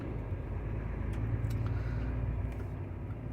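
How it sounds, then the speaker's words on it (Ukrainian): Cars pass along a road heading to the border near a night tyre-repair stop, a steady low rumble of traffic with engine hum continuing throughout, moderately distant. "Там проїжджають машини, які їдуть зразу на кордон."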